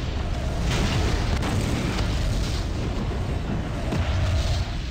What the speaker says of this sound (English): That battleship got destroyed.